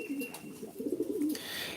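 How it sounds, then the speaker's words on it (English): Homing pigeons coo in a video game, a low soft burbling call rising and falling over under two seconds, fairly quiet against a faint background hiss. "They're homing pigeons."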